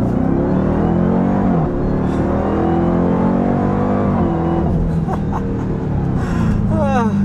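A 2021 Dodge Durango Hellcat with 710 horsepower accelerates from a roll, its loud engine rising in pitch through several automatic upshifts with brief drops between gears, and a voice talks over the roar.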